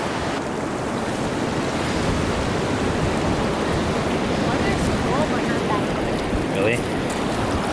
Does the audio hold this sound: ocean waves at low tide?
yes